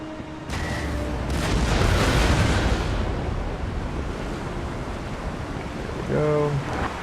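Warship cannons fire in a naval battle in Empire: Total War, a loud broadside of deep booms swelling over crashing sea ambience, then a brief tonal game cue near the end.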